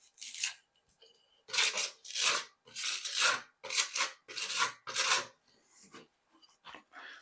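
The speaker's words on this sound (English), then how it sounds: "you don't have to apply much pressure with the sponge in order to remove all the excess" Sponge wiping excess grout off freshly set shower tile, a series of rhythmic rasping scrubs in short strokes, close and clear with no talking.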